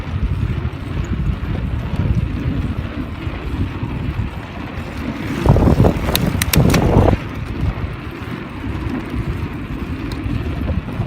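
A mountain bike rolls over a long wooden boardwalk on a trail near Siffleur Falls, Alberta, its tyres rumbling steadily with a burst of clattering plank knocks midway under wind noise.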